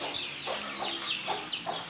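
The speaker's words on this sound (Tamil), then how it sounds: "இது எல்லாமே கட்டு சேவல் தாங்க." Kattu seval fighting roosters give a few soft clucks and short calls spread over under two seconds, faint and close, with no one talking.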